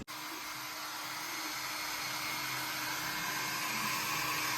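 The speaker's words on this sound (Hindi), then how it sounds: "नहाने के बाद थोड़ा गीला थोड़ी रहने का, ड्रायर से सुखाना पड़ता है थोड़ा।" A hair dryer blows steadily and close, drying someone after a bath, a continuous whirring hum that holds at even loudness throughout with no talk.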